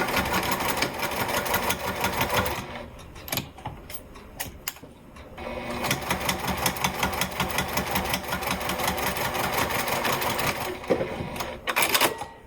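A home sewing machine stitches down the sides of a fabric wallet reinforced with Pellon 70 interfacing, running in steady rhythmic bursts with a brief pause and restart partway through, close and clear with no talking.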